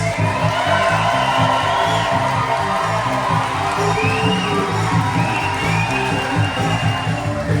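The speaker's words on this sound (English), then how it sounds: "let's make so much noise for our newlyweds" A loud wedding crowd cheers and whoops continuously for the newlyweds, with shouts and applause blending into a steady roar close by.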